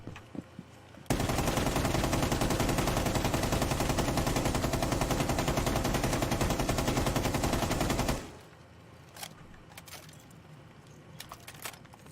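Sustained, loud machine-gun fire from a high-capacity weapon in Rainbow Six Siege runs for about seven seconds without pause, then cuts off into quiet clicks and faint handling noises.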